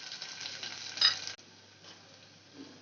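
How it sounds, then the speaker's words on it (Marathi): Garlic, fresh coriander and coconut dry-roasting in a pan for a drumstick and mixed-dal amti, giving a faint sizzle with a brief stirring scrape near the middle before the sound drops to a quiet hiss. "थोडा लसूण आणि कोथिंबीर, थोडंसं खोबरं याच्यात भाजून घ्यायचं."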